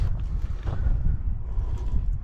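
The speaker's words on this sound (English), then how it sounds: "It might be a bit windy now because the wind's got up quite strong now." Strong wind buffeting the microphone outdoors at a reservoir construction site on a farm, a continuous low rumbling roar with gusty surges, loud and close, no speech.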